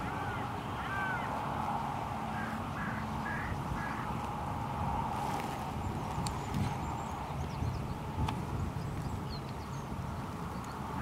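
Hooded crows calling outdoors at a bait spot, with several short harsh caws in a quick cluster early on, then scattered calls over a steady background rumble of wind or distant noise.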